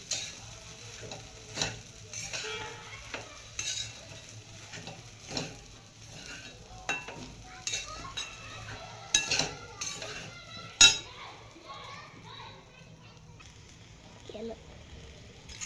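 Sabudana khichdi being stirred and sautéed in a pan, with repeated scraping and clinking of a spoon against metal in an irregular rhythm over a faint sizzle, close by, with occasional soft voice in the background.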